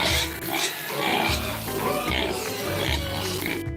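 Pig oinks and grunts come in a rapid rough series, close and loud, with snorting squeals layered over a noisy farmyard background.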